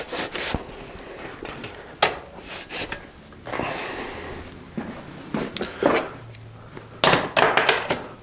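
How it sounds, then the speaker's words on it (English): A cloth flossed around the dirty bottom bracket spindle of a thrift-shop Mongoose bicycle, giving intermittent close rubbing and swishing bursts with small knocks and pauses between strokes. "Bottom bracket spindle is pretty dirty on this side, so I'm just gonna give it a quick floss."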